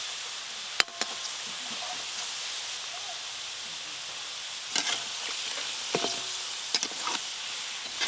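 Vegetable chops frying in hot oil give a steady, fairly faint sizzling hiss throughout, broken by a few sharp clicks and pops near the start and again toward the end.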